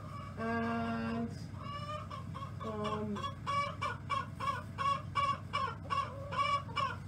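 Hens in a coop shared with a single rooster, including a silver laced Wyandotte, cluck nearby, with drawn-out calls at first and then a steady run of short, rhythmic clucks.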